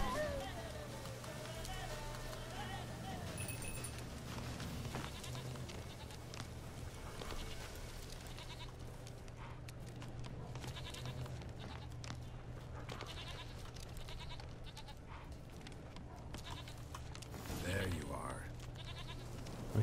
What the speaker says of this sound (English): Run towards here the goat.